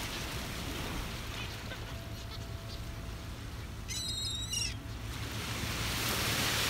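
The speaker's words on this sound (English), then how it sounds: "There's tons of birds out here this morning." Birds call at a beach in the morning: a short run of honking, goose-like cries stands out partway through over steady surf-like background noise.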